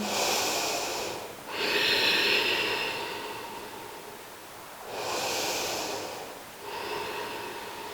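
Slow, deep breathing during a seated yoga twist in a hatha session, with long airy inhales and exhales close to the ear, rising and falling in steady waves with no talk.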